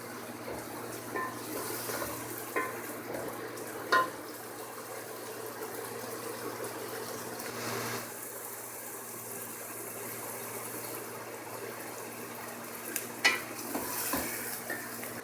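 Onions fry gently in a pan with a soft, continuous sizzle, broken by occasional light clinks and scrapes of a utensil stirring, quiet and close with no talking.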